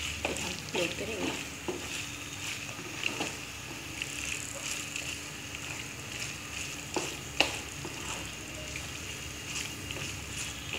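Macaroni cooks in a pan with a soft, steady sizzle and intermittent stirring scrapes, fairly quiet and close, with no talking.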